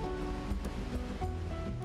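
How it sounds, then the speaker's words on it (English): A clear waterfall in the Xenoblade Chronicles video game gives a constant, dense rushing wash of water, steady and alone with no voices. "This is a nice waterfall area."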